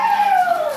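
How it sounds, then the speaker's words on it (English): A small dog gives a single brief, high, falling whimper, close by and fairly loud, lasting under a second. "Claire don't know what to think about these little doggies."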